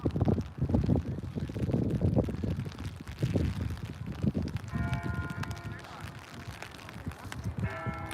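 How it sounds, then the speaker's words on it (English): Faint, distant church bells ring out in the second half, heard under wind buffeting the microphone and rumbling background noise at an outdoor boys' lacrosse game. "Even the church bells are ringing"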